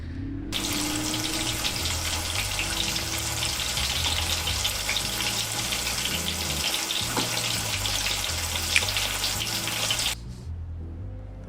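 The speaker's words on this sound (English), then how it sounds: "Frying some chicken." Chicken sizzling in a frying pan in the game Chicken Police, a steady loud hiss of frying that runs for about ten seconds over a low musical drone, then cuts off abruptly.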